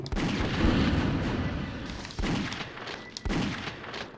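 Gunfire in the PS1 game Alien Trilogy: heavy, booming shots in quick bursts, loud and close, with a couple of sharp blasts separated by brief pauses and a dense rumbling tail.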